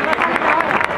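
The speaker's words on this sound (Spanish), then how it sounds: "Un fuerte aplauso para ellos." Crowd clapping steadily at a children's carnival parade in Cuéllar, a dense continuous patter of many hands outdoors with voices mixed in.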